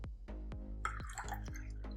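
Acqua Panna water is poured into glasses in a short splashing burst, surrounded by a series of evenly spaced drips and light clinks, heard close up in a quiet room.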